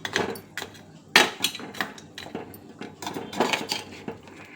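A utensil scrapes and clanks against a pan while crab masala for crab sukka is stirred, a string of close metallic knocks and clinks in an uneven rhythm, with no talking.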